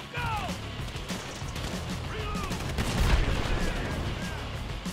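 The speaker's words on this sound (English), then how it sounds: "Стреляй по колесам." Gunfire aimed at vehicle tires in Grand Theft Auto V, with repeated sharp shots and crashing impacts over a busy game mix containing chirping sounds.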